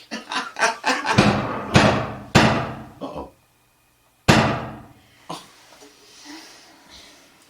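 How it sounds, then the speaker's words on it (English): Several sharp knocks on a door, first a fast cluster and then a few heavier, spaced raps with short pauses between them, sound close and loud while a voice briefly reacts. "It sounds like somebody's at the door."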